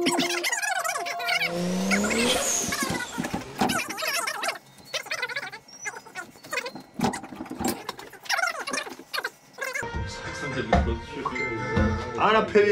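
A car drifting at a Mad Max-themed car meet, engine revving hard with long wavering tire squeals and skids, loud and close, amid crowd noise and shouting voices.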